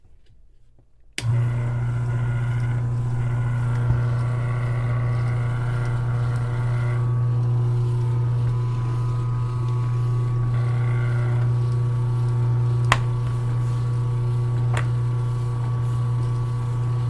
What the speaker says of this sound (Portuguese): porque faz muito barulho o cilindro